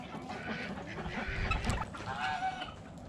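Ducks quack and honk in a morning coop where eggs are being collected, a busy overlapping chorus of nasal calls at close range.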